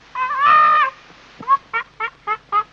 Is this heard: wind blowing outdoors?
no